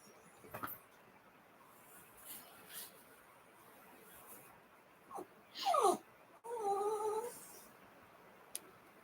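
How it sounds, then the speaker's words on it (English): A pet dog whines and whimpers indoors in a few short, high-pitched bursts near the end, with brief breaths and rustles before them in an otherwise quiet room. "Sorry if you're hearing that dog."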